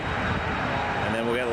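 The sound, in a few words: Porter Embraer 195 E2 jet airliner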